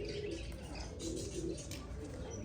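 Pigeons at a rooftop loft and perch coo in soft, repeated low murmurs over a steady background hiss, close by and moderately quiet, with no clear talk.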